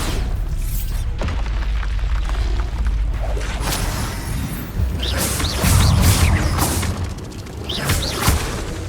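Repeated Bombarda spell blasts in the Hogwarts Legacy video game, loud booming bursts with whooshing swishes and crashing debris over a dense rumbling battle backdrop, several hits spaced across the stretch.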